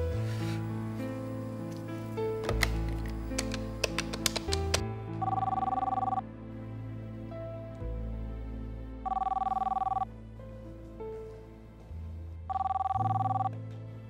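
A telephone rings in repeated bursts of electronic trilling over a steady background of music, the rings clear and fairly loud, spaced a few seconds apart.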